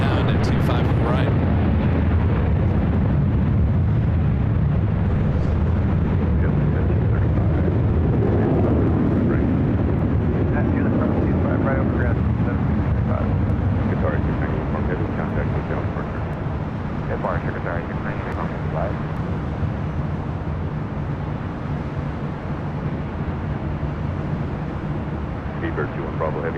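A Qantas jet rolls down runway 25 right at LAX, a steady broad engine roar with low rumble that builds early and continues under intermittent voices and radio chatter.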